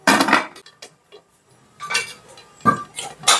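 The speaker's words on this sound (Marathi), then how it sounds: "सो गाईज आता मी कुकर ओपन करते." A pressure cooker used for baking a homemade cake is opened, giving several loud, close metallic clanks of lid and pot separated by brief pauses.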